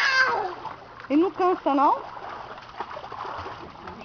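A dog swimming in a backyard pool, with light splashing and water sloshing beneath a voice and a few high, squeaky sounds close by.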